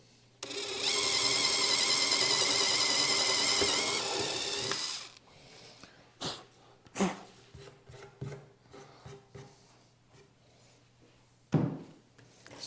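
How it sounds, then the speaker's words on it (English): A power drill whines steadily for about four seconds while boring through hardware from a dimpled starting mark for a stove cover, followed by scattered clicks and handling knocks. "and then drilling through it."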